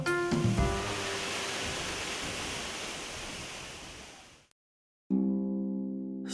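Zhenets waterfall in the Carpathian mountains near Tatariv after heavy rains, its main flow joined by a dozen side streams: a loud, steady broadband roar of rushing water that cuts out briefly near the end, then returns with music over it.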